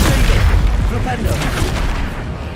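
Flupendo knockback spell cast in the Hogwarts Legacy video game, a loud booming burst with a crashing blast that fills the moment, then rumbles and decays.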